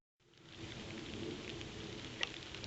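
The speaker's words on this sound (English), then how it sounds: "Now it's kind of raining on and off today" Light rain patters steadily through autumn woods in a short, quiet stretch, a soft continuous hiss with a couple of sharper drop hits near the end.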